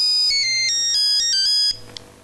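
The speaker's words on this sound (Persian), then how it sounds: "وسط گفتگو تلفن زنگ زد" A phone rings with a bright electronic melodic ringtone, a quick rising and falling pattern of beeping tones, loud and close, cutting off abruptly after under two seconds.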